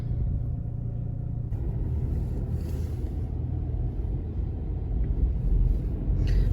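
A car's engine rumbles steadily nearby while it pulls out of a parking space, a continuous low drone that swells slightly toward the end.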